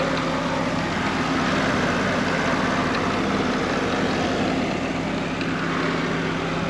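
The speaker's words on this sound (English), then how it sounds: "The engine sounds great." The engine of a 1989 Chevrolet Camaro RS with 6,500 miles idles in a steady, continuous hum with a faint low tone, broadband and unchanging throughout, with no voices.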